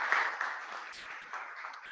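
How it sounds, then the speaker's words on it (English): Audience applause at a founder showcase event in the UAE, a faint but steady wash of many hands clapping for about two seconds with no speech over it. "put a big round of applause for yourselves for coming on this hybrid model."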